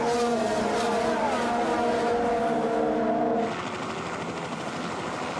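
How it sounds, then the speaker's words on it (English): Formula 1 race cars at the Bahrain Grand Prix race start: a dense, loud engine roar with high-revving harmonic tones, shifting abruptly partway through as the pack streams past. "There goes the Toro Rosso of Danny Kvyat at the top of the hill"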